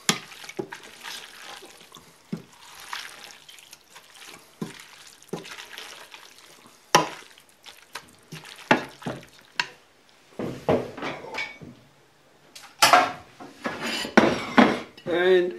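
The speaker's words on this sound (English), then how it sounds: "Just give it a stir around." A metal spoon clatters and scrapes around a pot while tuna fettuccine alfredo is stirred, Australian Army catering style, with irregular close knocks and clinks, some watery sloshing, and louder strikes toward the end.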